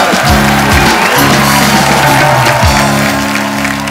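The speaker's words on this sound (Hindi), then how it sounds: "जोरदार ताली एक बार हो जाए।" A studio audience on The Kapil Sharma Show gives loud, sustained applause and cheers, the clapping dense and close while sustained musical tones sound beneath it.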